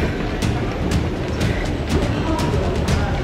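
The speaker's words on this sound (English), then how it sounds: "I think that's one of the trains." A train rumbles steadily nearby in Jakarta, Indonesia, with regular sharp clicks from wheels passing over rail joints.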